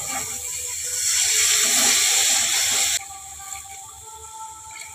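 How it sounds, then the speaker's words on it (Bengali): Water poured into a pan of spice paste frying for a Bengali bhangor fish jhal, giving a loud steady hiss and sizzle that cuts off abruptly, leaving a quieter simmering hiss. "জল দিয়ে দেবো।"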